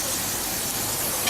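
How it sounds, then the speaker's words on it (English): Pam cooking oil sprayed onto a grill before a duck confit pizza crust goes on, a steady close hiss lasting just over a second with no talk. "Spray your grill."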